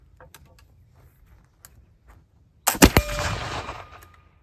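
A single loud black powder gunshot from homemade powder mixed with used coffee grounds, a sharp crack followed by a second of hissing, rushing burn-off, standing out against a quiet outdoor background.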